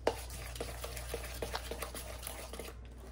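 Moong dal batter being stirred with salt in a bowl, giving a soft, steady run of wet scraping and sloshing strokes close up, with no voices.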